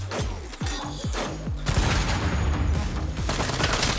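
Saints Row video game combat: a loud blast opens, then rapid bursts of gunfire and booming crashes roll on without pause, dense and close, with no voices.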